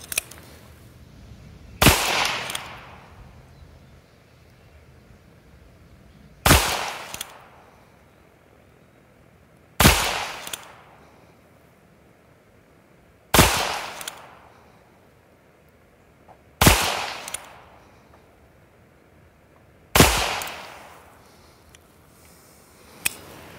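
Ruger Super Wrangler revolver fired at outdoor targets, six loud, sharp shots spaced a few seconds apart, each followed by a fading echo, with no talking.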